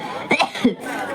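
A short cough from a performer in a Bengali comic stage skit, two quick loud bursts close to the microphone with speech around them.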